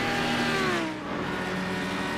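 An Audi R8 race car in the iRacing video game at Long Beach, its engine note sweeping loud and close, with the pitch dropping as it shifts and then climbing again under acceleration.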